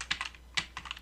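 Keystrokes on a computer keyboard, typed into an Excel cell: short clustered bursts of clicks in two quick groups with a pause between, close and clear over a faint steady hum, no voice.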